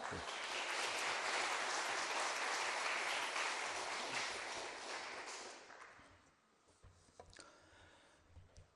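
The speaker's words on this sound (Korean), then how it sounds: "크게 박수로 한번 좀 청하면 좋겠습니다" Church congregation applauding loudly, a dense sustained wash of clapping that fades away after about six seconds into quieter room noise with a few scattered sounds.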